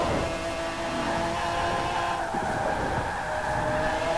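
A 1995 BMW 850CSi's V12, fitted with all-wheel drive and a larger engine in Forza Horizon 4, drones loud and steady at high revs, holding a sustained roar with a brief dip in pitch partway through.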